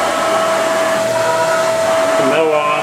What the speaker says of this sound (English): Now the pallet is rotating.